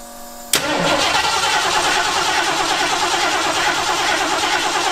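Car engine fitted with Holley Sniper EFI fuel injection, starting for the first time in a long while: a sharp crank at the start catches at once and settles into a steady, loud, close idle that holds to the end.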